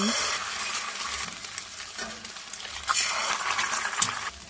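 Eggs fry in ghee in a pan, with a constant crackling sizzle that rises and falls as they are stirred, close by and with no talk over it.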